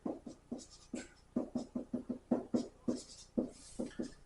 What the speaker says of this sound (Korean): 써볼게요, 이렇게